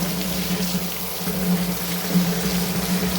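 Running water rinsing through a sheep's dyed wool fleece during washing, a steady close wash of flowing, trickling water with a low pump-like hum underneath and no voices.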